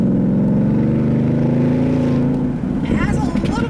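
A car on its stock exhaust switched into track mode: a steady, deep engine drone that shifts into a rougher, more uneven burble partway through, loud and close.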